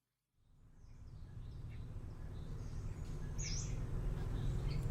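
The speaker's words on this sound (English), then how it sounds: "You can hear the birds." Birds singing in a garden on a lovely day, several faint high chirps and calls scattered over a steady low background hum, distant and soft.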